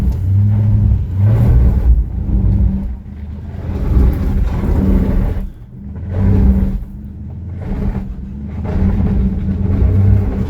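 A Chrysler 300C HEMI strains up a steep driveway, its engine rumbling low and revving in repeated surges that rise and drop over several seconds, loud and close with no talk.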